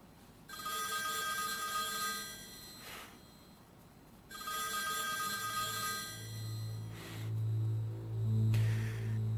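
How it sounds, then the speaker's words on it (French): A telephone rings in repeated electronic bursts, about two long rings with pauses between, followed by a low buzzing hum toward the end, heard indoors without speech. "Mon téléphone sonne."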